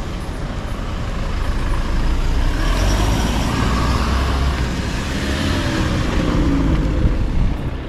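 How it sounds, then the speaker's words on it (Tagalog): Cars and trucks roll past on a narrow one-way street, forming a loud, steady wash of close road traffic with rising and falling engine rumble and tyre noise throughout. "May mga sasakyan pandadaan"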